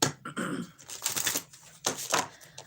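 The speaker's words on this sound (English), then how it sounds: "Let me shuffle." Tarot cards being shuffled by hand, giving a few quick bursts of papery riffling and slapping taps that come close and fairly loud with short pauses between them, and no talking.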